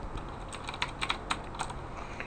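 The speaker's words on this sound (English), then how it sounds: "here's what the keyboard sounds like when you're typing" Typing on a Razer BlackWidow Ultimate mechanical keyboard: a run of crisp, close key clicks in an irregular rhythm, with a few louder strikes, over a quiet steady hum.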